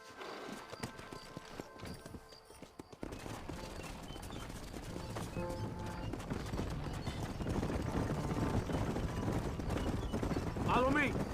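Horses gallop in Red Dead Redemption, with rapid hoofbeats building from sparse clops into a dense, loud, continuous drumming, a whinny near the end and background game sounds.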